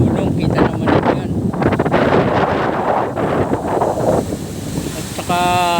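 Strong gusts buffet the microphone on a seaside coast in Real, Quezon, with rough surf churning beneath. The roar is continuous and uneven, and a voice speaks over it.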